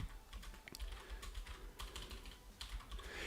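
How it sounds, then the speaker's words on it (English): Rapid, continuous clicking of computer keys as a word is typed again and again, close and steady over a low background hum, with no voice. "I'm going to start typing pizza 100 times."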